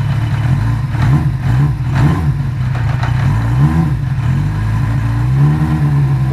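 A 1975 Honda CB550F four-cylinder motorcycle idles cold on choke, a loud close engine burbling unevenly with slight rises and dips in revs throughout.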